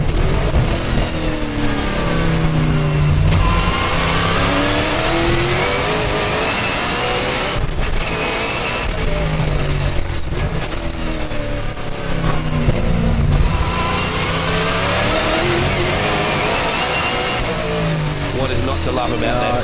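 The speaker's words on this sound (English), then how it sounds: "We're riding back on board with Desi, back down through the gearbox here into turn 1 and 2." A 2009 National Sports Sedans racing car at Oran Park, heard from onboard, its loud engine blipping and dropping revs as it downshifts through the gearbox into a corner, with a commentator talking over it.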